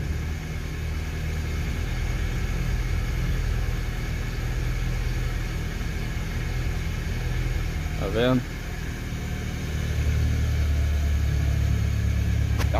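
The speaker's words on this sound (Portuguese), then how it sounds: "O carro pega na hora" A car engine idles after being started with a laptop power supply, a steady loud low rumble running the whole time with a brief chirp partway through, while a voice speaks briefly.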